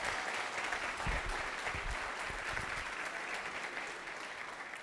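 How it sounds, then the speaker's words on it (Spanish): An audience applauds at a Spanish-language church talk, a full, continuous burst of clapping that stays strong and fades slightly toward the end. "Escucha este aplauso."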